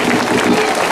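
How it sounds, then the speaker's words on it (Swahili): Congregation at a Swahili church service clapping for Jesus, a steady, dense wash of hands close and all around, with no pauses. "Watu wote tumpigie Yesu makofi mazuri kabisa."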